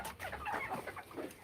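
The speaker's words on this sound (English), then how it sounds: "I have some beautiful roosters." Several roosters cluck and call softly in a busy, overlapping chatter, faint and close at hand, with no talking.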